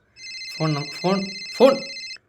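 A telephone rings in a video game with a repeating electronic tone, and a voice speaks over the three rising bursts of sound.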